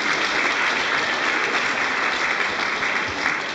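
A theatre audience at a children's ballet fairy-tale performance of Sterntaler claps loudly and continuously, a thick, even wall of applause filling the whole moment.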